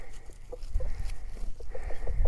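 Chickens in a backyard flock with roosters cluck in short, repeated calls near the microphone, mixed with some low thumps and handling noise.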